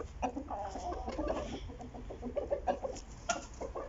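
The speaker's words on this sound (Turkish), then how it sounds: "Açacağız şöyle bir tavuklarımız çıksınlar." Chickens cluck steadily as they are let out of their coop, a busy overlapping chorus of short clucks and calls close by, with no talk over it.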